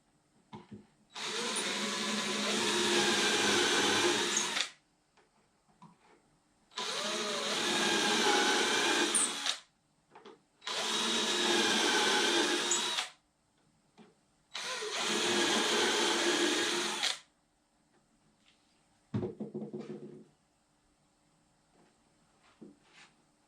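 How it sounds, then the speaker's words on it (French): A power drill bores holes while a multimedia furniture unit is being built, running in four whining bursts of about three seconds each with pauses between, then a brief final spin, loud and close. "Et je suis prêt à percer."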